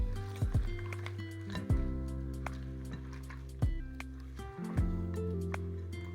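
Cooked apples for an apple pie are tossed in a container with their pooled liquid, giving soft wet squishes and several sharp clinks and knocks spread across the moment, close and quiet with no talking.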